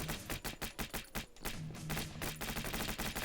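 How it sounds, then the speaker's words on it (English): Basic pistol in a 3D top-down zombie defense shooter video game, fired in a rapid, near-continuous string of punchy shots, each cracking close with a thumping low end, the rhythm briefly pausing midway before resuming. "This is the basic pistol"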